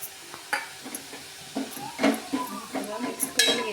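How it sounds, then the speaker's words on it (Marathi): Spring onion greens with coriander powder, turmeric and salt being stirred in a pan, with a spoon scraping and clinking against the metal in irregular strokes over a soft sizzle, close up. "सगळं मिक्स करून घेते।"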